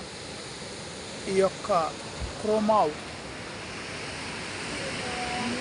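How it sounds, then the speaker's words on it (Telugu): River waterfalls rush in Cesky Krumlov, Czech Republic, as a steady broadband roar heard from a bridge, with someone speaking briefly over the water. "ఇక్కడ వాటర్ ఫాల్స్ ఉన్నాయి"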